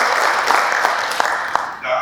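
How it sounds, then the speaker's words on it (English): Conference audience applause for a speaker at an African SME strategy event, a steady wash of many hands clapping at moderate distance for about two seconds before tapering off as talk resumes. "So give me a round of applause to Didier Acouetey."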